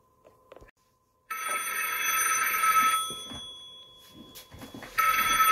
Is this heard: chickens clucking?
no